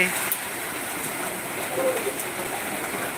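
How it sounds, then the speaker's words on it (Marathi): Dense, steady hiss of heavy rain pouring down in Parli, Beed, with a person talking over it throughout. "परळीमध्ये दमदार पावसानं हजेरी लावली"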